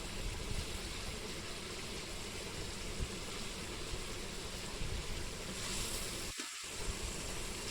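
Fish dropped into boiling water in a pan while cooking a dried fish and onion fry, giving a faint, steady bubbling hiss that stays constant with a brief dip near the end, with no talking.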